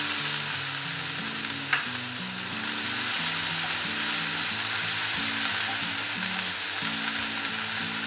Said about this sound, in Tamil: வெங்காயம் வந்து நல்லா பொரியணும்